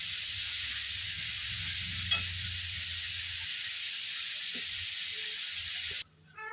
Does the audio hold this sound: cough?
no